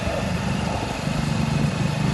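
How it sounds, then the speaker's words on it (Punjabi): A motorcycle engine runs steadily throughout, a continuous close mechanical drone with low rumble, no speech over it. "ਲਓ ਜੀ ਬਾਈ ਆਪਾਂ ਮੋਟਰਸਾਈਕਲ ਤੇ ਆ"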